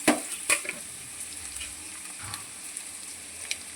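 Chopped onions fry in hot oil in a kadai, a soft steady sizzle with a few sharp clinks of a utensil near the start and scattered faint ticks, close by with no talking.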